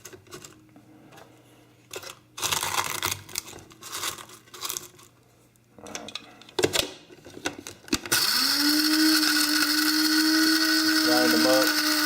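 An electric grinder whirs steadily at high speed, pulverizing eggshells after several seconds of rattling and clattering as the shells are pushed into it.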